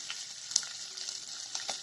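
Green chillies, ginger and carrot sizzle and crackle steadily in a hot pan, with a few sharper pops over a soft, even hiss, fairly quiet throughout.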